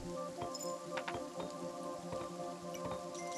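Steady rainfall in the game Kingdom Two Crowns: Shogun, a dense patter of drops with scattered brighter ticks over a constant tonal game hum.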